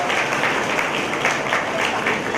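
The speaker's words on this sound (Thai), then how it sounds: "ปรบมือดังเลยครับ" A round of applause at a Thai municipal good-governance award ceremony, dense and even clapping from a sizable audience that holds steady throughout.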